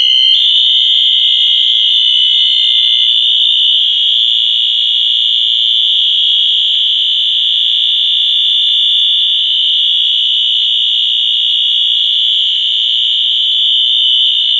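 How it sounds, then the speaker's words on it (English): A Wheelock smoke detector blares one continuous, piercing high-pitched tone, loud and close, holding steady without a break from start to finish. "I'm going to do smoke detector."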